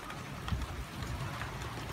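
Video game rain falls steadily and faintly on a surface, a soft constant patter with no voices.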